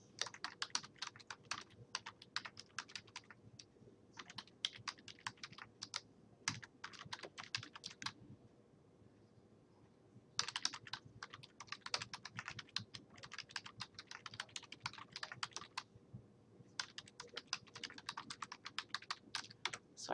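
Computer keyboard typing in close, steady bursts of rapid clicks, with two short pauses between runs and no talking.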